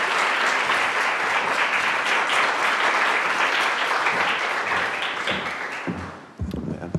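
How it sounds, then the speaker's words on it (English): Audience applause for a reader at a Cornell English MFA graduation reading, dense loud clapping that holds steady then fades out near the end, followed by a few bumps and a voice starting. "Please give a round of applause for Mario Giannone."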